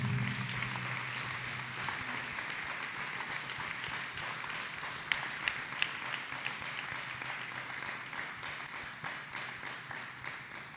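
A church congregation claps hands together, a steady, dense wash of many palms blending into continuous applause that holds at an even level for several seconds, sounding somewhat distant and roomy.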